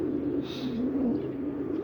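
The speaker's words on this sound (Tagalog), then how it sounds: "may naririnig na ako ang tunin ng ibon" Birds coo in a low, continuous, throaty murmur, close and steady for about two seconds with no one talking.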